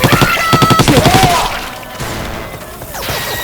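Rapid bursts of gunfire in the zombie shooter Left 4 Dead 2 on a modded Dark Carnival map, loud and close for the first second and a half, then scattered shots and crashes with game noise.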